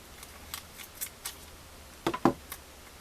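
Packing tape is pulled off a roll in short crackly bursts, then cut with a couple of sharp snips, close and fairly quiet.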